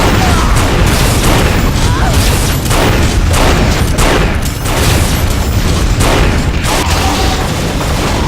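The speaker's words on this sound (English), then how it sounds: "Two people with flak cannons, that's the worst thing." In multiplayer Unreal, flak cannons fire repeatedly in loud, rapid booming bursts that keep coming over several seconds with hardly a pause.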